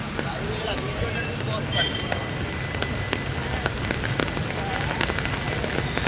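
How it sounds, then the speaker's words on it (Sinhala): Heavy rain falls steadily as a dense, close hiss with scattered drips and splashes. A voice can be heard faintly beneath it. "වැහැලා මහා ගම් වතුර"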